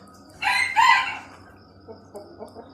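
A chicken on a farm gives a loud, squawking cluck up close, followed by a few quieter, softer clucks.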